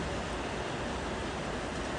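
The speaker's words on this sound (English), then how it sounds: "It's still raining." Steady rain hisses evenly throughout, a dense, constant wash of falling water with no other sounds standing out.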